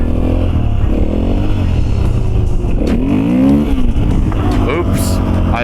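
A Husqvarna FE450 dirt bike engine roars loud and close at high throttle, the pitch sweeping up sharply in a hard rev before settling, with wind noise throughout.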